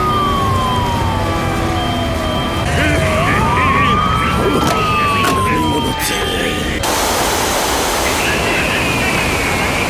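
A fire engine siren from the 2024 Japanese tokusatsu series Bakuage Sentai Boonboomger, with a lion mech that turns into a fire engine. A wailing tone sweeps up and down beneath a voice and layered background sound.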